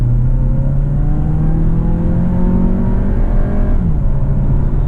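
The 2.0 TSI engine of a Volkswagen Tiguan Allspace 4Motion drones loudly and steadily, its pitch climbing gradually as it revs, then dropping briefly before holding again.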